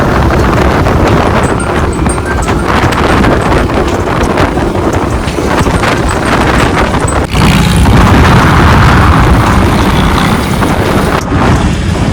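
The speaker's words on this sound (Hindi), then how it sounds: "बड़ी जबरदस्त हवा चल रही है।" Strong wind buffeting the microphone while riding in an open loader rickshaw, a loud continuous roar and rumble with a brief dip partway through, no talk.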